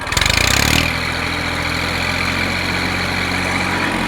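A Massey 1035 DI diesel tractor engine idles steadily nearby with a low, even rumble, after a brief louder rattling burst at the start.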